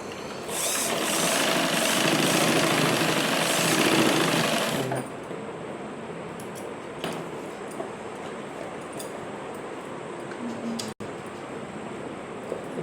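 Sewing machine stitching the side of a back-open blouse: a loud, rapid mechanical whirring for about five seconds that then stops, leaving quiet handling noises, light clicks and one sharp knock later on.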